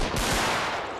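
A ragged volley of rifle fire from 33rd Regiment of Foot reenactors at Rorke's Drift in the Anglo-Zulu war, a loud dense crackle of overlapping shots that sustains and slowly fades over about a second.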